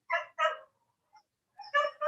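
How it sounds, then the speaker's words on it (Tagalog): Dogs bark in short bursts, two yips close together, a pause, then two or three more, fairly clear and near, with no talk over them. "May mga aso."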